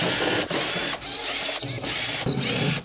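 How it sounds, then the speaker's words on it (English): Phillips screws backed out of the rear of a Whirlpool microwave's outer wrap, a continuous whirring, ratcheting driver sound broken by short pauses between screws, close and alone. "we can go ahead and remove the back Phillips style screws that are securing the back of the wrap onto the actual cavity"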